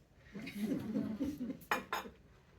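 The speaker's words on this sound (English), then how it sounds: "I can hear the chink, chink, chink of the china on the cups" China cups clinking in a cafe, a soft clatter of crockery and cutlery followed by two sharp, bright chinks close by, fairly quiet overall.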